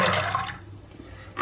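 Soaked chickpeas and water are tipped into a pressure cooker, giving a brief close splashing pour at the start, a quieter lull, then another burst of pouring water at the end.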